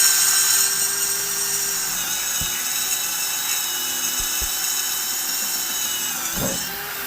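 A cordless drill runs with a steady high whine as a 6 mm bit bores into 2-inch-thick wood, holding a continuous close, loud tone with a few brief knocks and a shift near the end.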